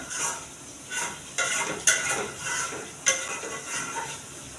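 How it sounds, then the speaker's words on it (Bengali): Chicken meat tipped into a pan of spices that have been frying for several minutes for a Bengali chicken roast, then stirred with a utensil: soft sizzling under repeated scraping and clinking strokes against the pan, close and unbroken, with no talk. "এখন আমি এর ভিতরে মাংসটা দিয়ে দেবো"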